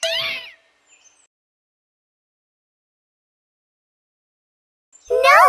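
A cartoon cat lets out two bright, sliding meows, one at the start and one at the end, with a long stretch of silence between them.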